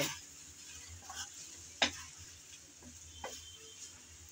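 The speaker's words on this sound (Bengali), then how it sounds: "আমি আবারও কিছুক্ষণ পর এসে একটু নেড়েচেড়ে মিশিয়ে নিচ্ছি।" Taro stolons cooking in a pan are stirred, giving a low sizzle with a few scattered scrapes and clacks of the utensil, fairly quiet, without speech.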